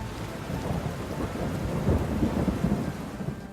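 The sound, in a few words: rain and thunder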